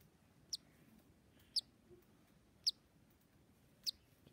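A tiny baby bird gives four thin, high chirps, evenly spaced and faint, against a quiet indoor background.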